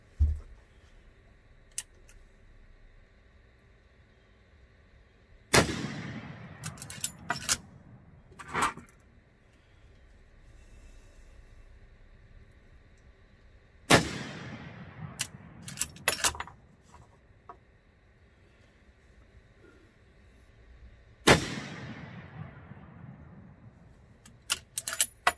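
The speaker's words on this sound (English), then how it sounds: "We're going to establish a group, and then we'll shoot through the coupons as well." Three loud, sharp shots from a 30-30 brush gun rifle fired at a target group, each followed by a decaying rumble and clinking metallic rattles, spaced several seconds apart with quiet stretches between.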